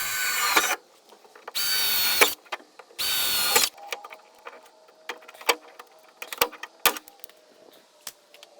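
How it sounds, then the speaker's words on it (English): Power drill boring the first holes to mount a bracket inside an old OBS Ford F-150 cab, three loud whirring bursts in close succession, followed by quieter clicks, taps and tool handling. "This is the initial holes I'm going to drill so we can get the bracket mounted."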